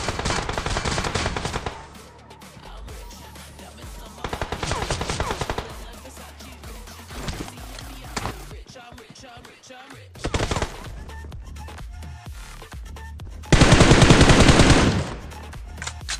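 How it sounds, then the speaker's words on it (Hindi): An M4 rifle fires in the mobile shooter BGMI in loud, rapid automatic bursts, broken by brief lulls, with a final intense burst near the end. "जिनमें से एक को तो M4 से मारा"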